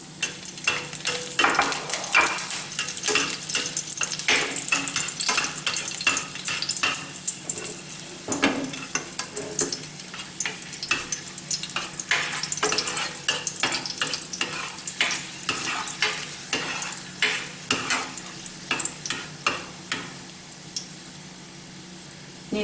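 Whole chillies fry in hot oil, a busy crackling sizzle with sharp pops and stirring scrapes against the pan, loud and close, easing off near the end.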